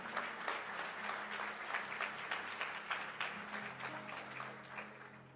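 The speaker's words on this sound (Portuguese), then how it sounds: "Se você pode, aplauda ao Senhor pela sua palavra." A church congregation applauds together, a steady wash of clapping from many hands that holds evenly throughout, fairly faint and distant, with no one speaking over it.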